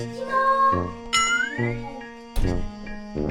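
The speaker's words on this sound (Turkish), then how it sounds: "Aa kapı çalıyor. Kapı mı çalıyor?" A doorbell rings indoors at a home, a few bright tonal chimes and ding-like notes sounding in separate bursts, fairly loud and close, with no talk over them.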